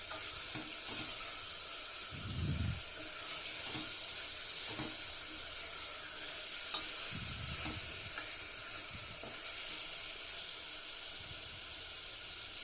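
Tomatoes with rock salt sautéing in a pan, a soft continuous sizzle with a few low scraping stirs of a spoon, close and steady without speech.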